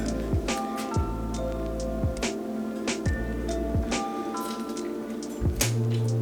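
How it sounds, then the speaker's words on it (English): Lemons being squeezed by hand in a home kitchen with a lemon squeezer for hummus, giving repeated wet squishing and dripping sounds close by, about a dozen short squeezes in steady succession with no talking. "We're gonna squeeze our lemons."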